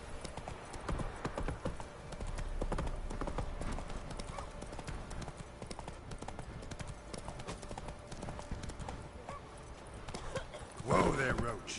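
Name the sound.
hoofbeats of Roach the horse in The Witcher 3 video game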